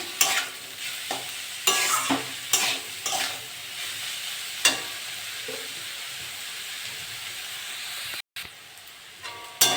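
Bitter gourd and potato pieces frying in a pan sizzle continuously, interrupted every second or so by scraping stirs and knocks of the spatula against the pan, close and moderately loud with no talk.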